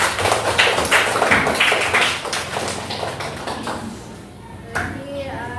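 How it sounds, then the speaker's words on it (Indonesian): Classroom applause, a burst of scattered hand clapping from a group that fades away, with a voice speaking briefly near the end. "tepuk tangan dulu untuk kita semua"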